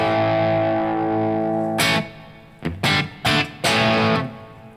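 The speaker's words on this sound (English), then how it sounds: "So I'm going to add in some reverb." A distorted electric guitar chord from a plexi-style amp rings out with added reverb and decays slowly, then several loud strummed stabs follow in an uneven rhythm, with no voices.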